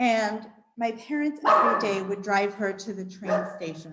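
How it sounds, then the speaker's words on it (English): A dog barks a few times in the background while someone speaks steadily in the foreground, the barks partly masked by her voice. "Sorry, that's my dog."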